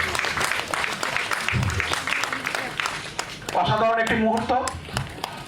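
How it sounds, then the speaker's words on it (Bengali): Audience applause at a women's day film screening event honouring a guest, steady sustained clapping from a crowd throughout, with a speaker talking over it and a brief musical phrase near the end. "এই মুহূর্তটার জন্য একটা সকলে জোরে হাততালি দেবেন"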